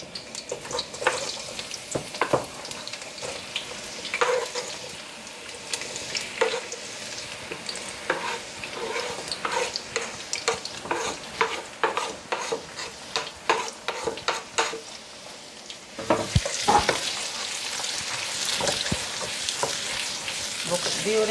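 Onions frying in garlic-flavored oil in a pot, stirred often: a steady hiss with repeated scraping clicks throughout, and a louder, brighter sizzle near the end.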